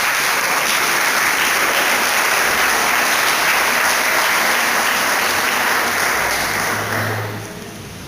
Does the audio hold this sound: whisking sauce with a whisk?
no